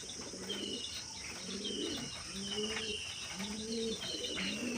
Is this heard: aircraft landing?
no